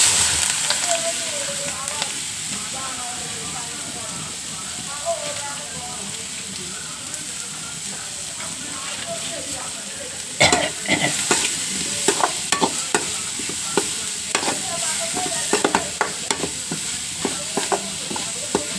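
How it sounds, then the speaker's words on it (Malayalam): Onion, green chili and curry leaves fry in boiling coconut oil, giving a continuous sizzle broken by repeated scraping stir strokes that grow busier in the second half. "കുറച്ച് കറിവേപ്പിലയും ചേർത്ത് കൊടുക്കണം കേട്ടോ ഇത് നന്നായിട്ട് അങ്ങോട്ട് തിളച്ച വെളിച്ചെണ്ണയ്ക്കാണ്"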